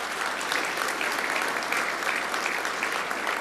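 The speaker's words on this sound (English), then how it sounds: "Just a round of applause for Baja." Audience applause fills the room at a Marine Corps Association ground awards dinner, a steady dense burst of clapping lasting a few seconds without a break.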